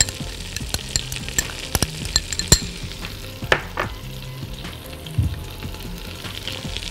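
Onion, celery and carrot fry steadily in a pot for seafood soup, a continuous sizzle broken by sharp clinks and scrapes of a stirring utensil, with no talking.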